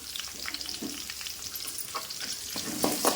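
Chopped large onions fry in a pan, giving a continuous close sizzle with repeated scraping stirs that grow a little louder toward the end.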